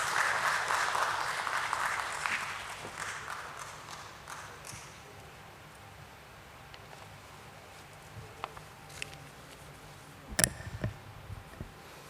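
An audience at a stock exchange listing ceremony claps to welcome the steel company chairman, loud at first and then thinning and fading, followed by quiet room tone with a few scattered knocks and thumps.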